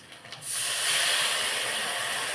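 A spice paste of turmeric and chilli powder mixed with water hits a hot wok with a sudden loud hiss that holds steady and bright for about two seconds, close and alone.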